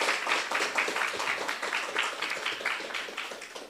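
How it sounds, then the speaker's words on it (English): A business forum audience gives the MCs a round of applause, a dense, sustained patter of many hands clapping that fades slightly toward the end. "They deserve a huge round of applause."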